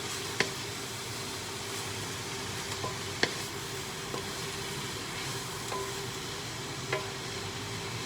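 Onion, carrot, cauliflower and ginger fry in a pan with a steady, dense sizzle throughout, broken by a few faint clicks of stirring at irregular intervals.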